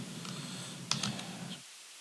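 Typing on a computer keyboard into the Start menu search: a few quick, soft key clicks over a low background hum that cuts off shortly after.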